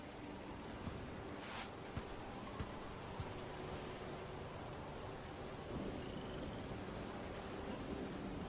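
Steady rain pours through a thunderstorm in the video game Dragon Age The Veilguard, a constant wash of falling water broken by a few soft thunder thumps and crackles, with no one speaking.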